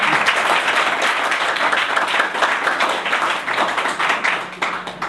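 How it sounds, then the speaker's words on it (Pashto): Audience applause fills a hall at a naat recitation competition, a dense, continuous clapping from a crowd that stays loud and even from start to finish. "داسې کاره یو چکچک"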